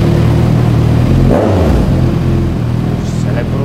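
A 2015 motorcycle idling in neutral, its engine a loud, steady, deep rumble with a brief rev partway through, while voices talk nearby.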